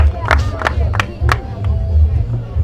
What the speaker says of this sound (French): Applaudissez pour eux au nom de Jésus-Christ